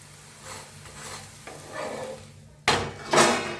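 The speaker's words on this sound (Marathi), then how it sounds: "छान असं भाजून घेऊया दोन्ही साईडने बघा छान असं भाजलं गेलेलं आहे" Dhapate flatbread made with cucumber roasts in ghee on a pan, with a low hiss and soft scraping as it is turned. A sharper sizzling burst near the end is louder, and nobody talks.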